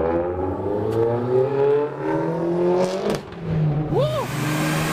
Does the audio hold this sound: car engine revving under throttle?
yes